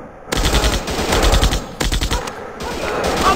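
Rapid machine-gun bursts in a night action shooter video game, loud and close, firing in several sustained strings broken by short pauses, with no talking.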